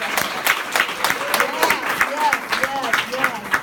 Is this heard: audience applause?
yes